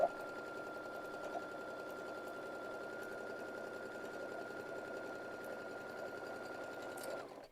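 A sewing machine running continuously while stitching fabric half-square triangles for quilting, giving a steady, even whirring hum at moderate closeness that holds for several seconds and then stops.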